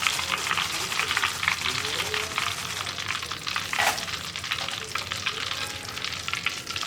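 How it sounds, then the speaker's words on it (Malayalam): Banana chips frying in hot oil make a dense, constant crackling sizzle close by, steady from start to end. "ബാക്കിയുള്ളതും നമുക്ക് ഇതുപോലെ തന്നെ ഫ്രൈ ചെയ്തെടുക്കാം"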